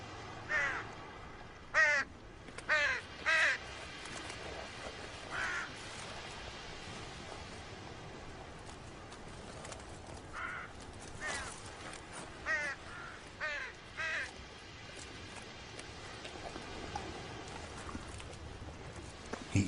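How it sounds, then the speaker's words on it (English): Crows caw from the trees of a Russian forest in a series of harsh, repeated bursts, some in quick pairs, at moderate distance over a soft, steady background hiss. No one speaks. "Heckling crows call unwanted attention."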